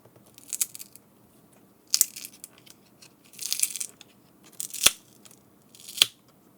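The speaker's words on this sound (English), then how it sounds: "put the prying tool underneath this and twist so it can come up." A prying tool works the battery out of a Garmin Nuvi GPS unit, giving five sharp crackling snaps and clicks spaced about a second apart over near silence, close-up and distinct.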